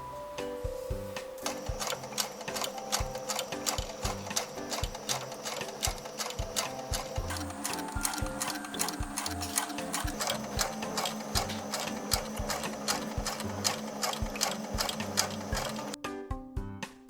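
Sewing machine stitching with a cording presser foot, a steady rapid mechanical whirring and ticking that runs continuously at close range before stopping abruptly near the end.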